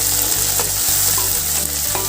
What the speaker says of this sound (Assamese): বিলাহীখিনি ভালকৈ গলি পেলাই যোৱালৈকে গোটেইখিনি ভাজি ল'ম।